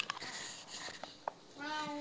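A domestic cat gives a few short, faint meows, followed by a rising, wavering cry near the end, with quiet room noise in between.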